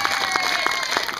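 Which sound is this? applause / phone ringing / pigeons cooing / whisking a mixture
applause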